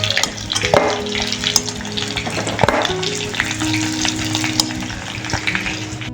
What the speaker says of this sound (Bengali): ফুলকপিগুলো ভেজে নিয়েছি, হ্যাঁ, তবে খুব লাল করে নয়, এই লাল সাদা মিলিয়ে।